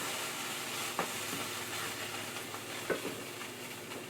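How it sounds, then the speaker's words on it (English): A thickening sauce for a wet chicken burrito is stirred in a pan, a constant broad simmering hiss with two soft scraping strokes of the spoon. "our sauce is thickening real well. And I am just going to take a stir"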